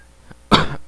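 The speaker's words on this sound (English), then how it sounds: "Cough, cough." A single short, sharp cough, close and clear, preceded by a faint throaty sound.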